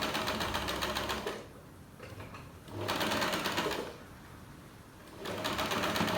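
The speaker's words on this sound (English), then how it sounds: "So I'm just going to go right ahead and sew it." A sewing machine stitches felt in three bursts of rapid mechanical whirring, separated by short quiet pauses, close and fairly soft.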